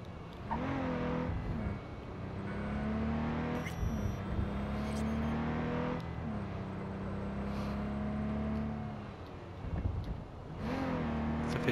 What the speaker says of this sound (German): Mit dem Auto sind wir wenigstens einigermaßen schnell unterwegs.